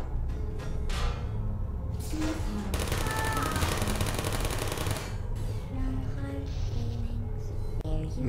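Turrets in the Portal video game fire on the player in a long, dense burst of rapid gunfire. Shorter shots and electronic game sounds come before and after it, and a voice talks briefly.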